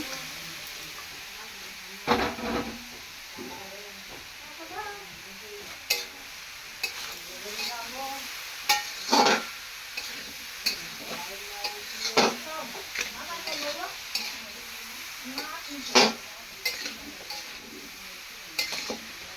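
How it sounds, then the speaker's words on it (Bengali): Grated coconut sizzles in a hot wok while being made into a filling for semolina coconut pitha, with a utensil stirring and scraping in repeated strokes. Faint voices are heard now and then. "এখন নারকেলটা কড়াইতে দেওয়া হচ্ছে নারকেল ঝাই বানানোর জন্য"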